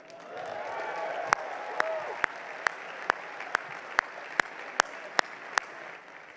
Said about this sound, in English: I have no idea if all of the clapping and hooting and hollering for Kush was because he's one of you